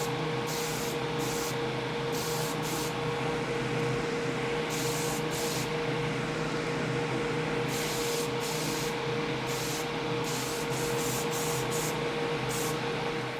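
Black spray paint hisses out of an aerosol can in short and longer bursts while misting coats go onto an 1800s matchbox, with a steady hum underneath, close and fairly loud with no talk.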